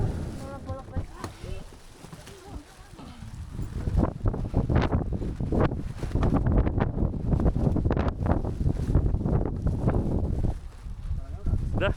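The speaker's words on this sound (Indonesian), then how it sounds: "Di luar angin kabut lumayan kencang sih." Strong, foggy wind blows outdoors at a family campsite at Teras Jingga, buffeting the microphone in rough, rumbling gusts that build and stay heavy. Voices talk at times under the wind.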